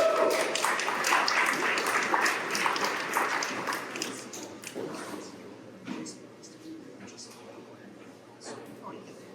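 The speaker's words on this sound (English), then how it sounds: "Round of applause, please." An audience at a San Francisco UAP hackathon applauds for the next presenter, with a burst of clapping that gradually fades over several seconds while voices talk over it.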